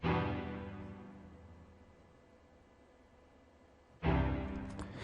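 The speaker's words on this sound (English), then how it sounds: "And for this one I chose big strings." A broad, sustained synthesized string pad swells and slowly fades, then a fresh chord enters abruptly near the end, lush and steady with no talking.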